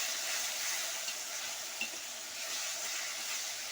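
Mutton mixture with ginger paste and ginger powder sizzles and fries steadily in a pot while being stirred, a continuous close hiss with faint scraping throughout and no talking.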